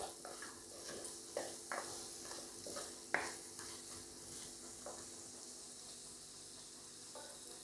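Fenugreek powder sautés in a pan as the base for a prawn and drumstick curry, giving a soft, low sizzle under repeated spoon stirs and scrapes that come at irregular intervals.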